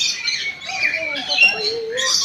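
Birds in an aviary at the Royal Safari Garden give sharp squawks and chirps in quick succession, fairly close, with people talking at the same time.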